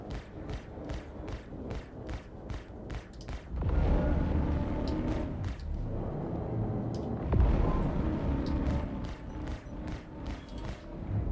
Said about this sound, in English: That's like the second time I've had like these explosions be like really effing loud for like no reason.